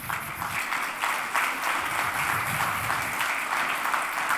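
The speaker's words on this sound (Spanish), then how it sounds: "vamos a recibirlo también con un caluroso aplauso" An audience gives a steady, warm round of applause to welcome a speaker, dense continuous clapping at even loudness throughout, with no voices over it.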